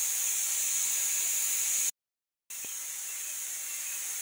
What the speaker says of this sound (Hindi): ये मेरा कुकर जो है वो दाल पूरा निकाल दे रहा है, पता नहीं क्या हुआ है।